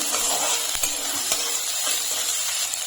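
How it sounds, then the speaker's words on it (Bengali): Chopped beans stir-fried in oil with lightly fried chopped onion give off a dense, even hiss of sizzling, with a few faint scrapes of the spatula, close and constant throughout. "বিনসটা একটু নেড়ে নেবো।"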